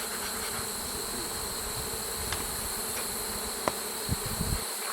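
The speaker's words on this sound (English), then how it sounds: "So we're trying to smoke the bees to the side so that we can gently brush them into the hive body." Honeybees buzz steadily around an open hive while being smoked aside and brushed into a hive body during a September relocation, a dense continuous drone with a few faint knocks near the end.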